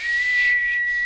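A steady, sustained whistled tone holds one high pitch for about a second, clear and close with no talking.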